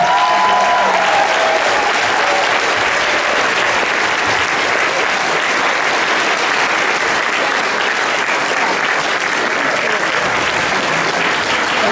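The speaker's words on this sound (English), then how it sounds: "let's have a big round of applause for the gentlemen" An audience at a Dark Shadows anniversary convention panel gives a long, loud, steady round of applause for the guests on stage, dense and unbroken throughout.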